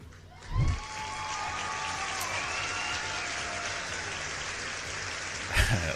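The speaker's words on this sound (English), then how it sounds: "One more round of applause for our winners" Audience applause for the winners of a live Friday-night quiz show: steady, dense clapping that swells in and carries on for several seconds at an even level.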